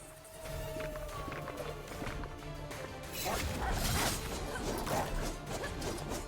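Dog barking in the video game Savara, short yips and barks mixed into busy combat noise with footsteps and crashes, under a steady game soundtrack.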